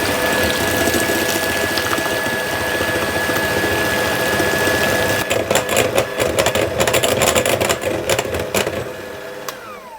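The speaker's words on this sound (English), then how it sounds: "I'm going to do this with my stand mixer" Stand mixer beating white chocolate brownie batter, a loud steady motor whir with a constant tone, turning choppier and rattling in the second half before winding down near the end.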